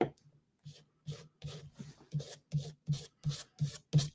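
A palette knife scrapes paint across fabric in about a dozen short, rhythmic strokes that grow steadily firmer and closer, each a dry rasping drag, with no talking.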